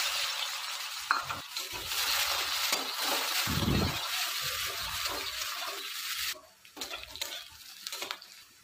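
Chopped onions sizzle in oil left over from frying fish, with nigella seeds tempered in it. A loud, steady hiss runs throughout, with stirring scrapes, then it quietens and turns more broken near the end.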